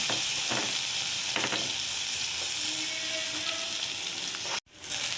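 Steady hissing sizzle of chopped onions frying in hot oil, close up, with faint stirring clinks and a sudden brief cutout near the end.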